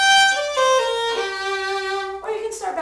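Violin playing a short section of Gypsy Waltz, a few sustained bowed notes with a clear change of pitch partway and a brief separate phrase at the end, heard alone and close.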